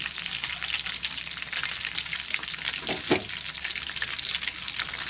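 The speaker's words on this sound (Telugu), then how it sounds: "మంచిగా ఎర్రగా కాల్చుకోవాలి." Crispy KFC-style chicken leg pieces deep frying in hot oil, a loud continuous close sizzle and crackle with a brief stir or clink near the middle, no talking.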